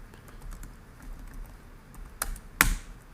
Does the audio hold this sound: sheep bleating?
no